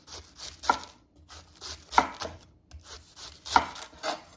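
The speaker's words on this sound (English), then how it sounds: "I'm going to go ahead and cut up my vegetables. I'm going to start with my cabbage." A knife chops cabbage on a cutting board, landing three sharp, evenly spaced strokes about one and a half seconds apart, each followed by a softer slicing scrape. The sounds are close and clear, with no talking.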